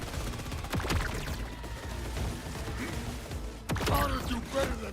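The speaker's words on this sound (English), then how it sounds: "The turret is destroying me." Turret gunfire in Borderlands: rapid mechanical shots and impacts rattle steadily throughout, with louder bursts near the start and again near the end, all under a dense layer of game noise and a talking voice.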